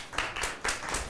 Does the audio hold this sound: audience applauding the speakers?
yes